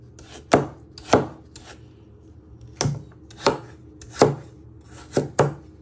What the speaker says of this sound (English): you just want to finely slice them